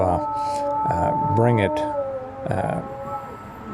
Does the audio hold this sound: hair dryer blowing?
no